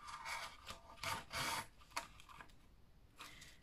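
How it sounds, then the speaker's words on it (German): A wooden kebab skewer is pushed through a paper plate, giving a few close, short scratchy rasps and rubs with brief pauses between them. "Um ein Loch reinzustechen in den Pappteller"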